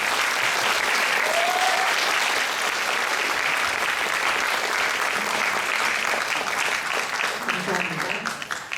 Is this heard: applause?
yes